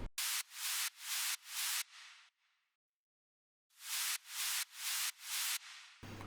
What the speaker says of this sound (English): We've got some white noise which is comes and goes every 4 beats.